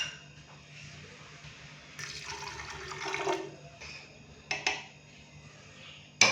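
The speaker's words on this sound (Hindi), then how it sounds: "तो अभी पानी थोड़ा सा हम इसके अंदर और डालेंगे।" About one and a half cups of water poured into a pressure cooker of goat intestine (ojhri) curry, a soft, faint trickle and splash with a few brief clinks of the pot.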